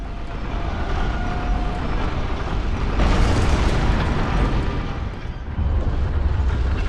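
Cannon fire in the video game Bloodborne: a sustained, loud, roaring blast that swells midway and rumbles on without pause, heard alone.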